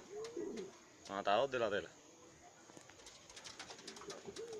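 An ash-coloured pigeon coos by its loft in a short, rolling burst near the microphone, with someone speaking Spanish before and after it.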